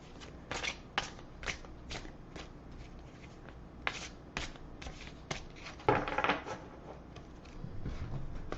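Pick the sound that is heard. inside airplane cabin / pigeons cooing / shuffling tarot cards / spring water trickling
shuffling tarot cards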